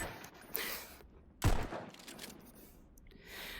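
Gunfire in the Pistol Whip rhythm shooter, a couple of sharp shots punctuating a busy game mix, the strongest a loud crack near the middle, with quieter action sounds around it.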